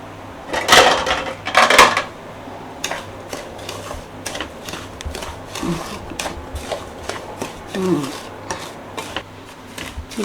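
Ghee-fried raisins and cashews are stirred into a pan of rava laddu mixture, with close, irregular clatters, scrapes and light knocks of a utensil against the pan.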